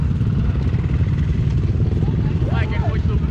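A dirt motorcycle rumbles loudly and close on a trail ride in Barros Cassal, Rio Grande do Sul, its engine droning steadily with clattering texture while voices call out over it.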